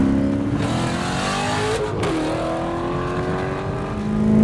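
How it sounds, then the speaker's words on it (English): A C7 Corvette Stingray Z51's V8 engine revs loudly and steadily, its pitch rising and falling through a gear change, swelling again near the end with no talk. "With a nice sounding V8 engine, a lot of power"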